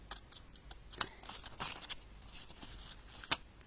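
Scissors snipping through paper across a line, a series of quick close crisp cuts with light rustling of the sheet between snips, quiet and alone without talk.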